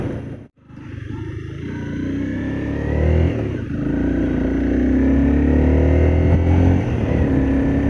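A Honda CBR 250R motorcycle engine revs and accelerates, rising pitch sweeping upward over several seconds, loud and close, with no voices.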